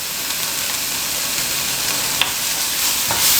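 Softening vegetables fry in a pan with a continuous loud hiss and crackle, with a few faint clinks of a utensil stirring them, close up and with no talking.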